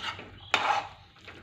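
A lid clatters down onto a pot of simmering potato, pea and fenugreek curry: a single sharp metallic knock with a brief ring, then soft rustling, fairly close and alone.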